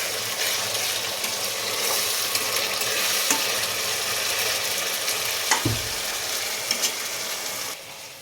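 Chicken fries in a pan with a loud, steady sizzle and crackle, and occasional clinks and scrapes of stirring come through close by.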